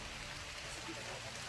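Steady rain falling on surfaces outdoors, a dense continuous wash of patter heard close and fairly faint.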